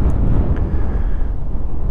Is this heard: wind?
yes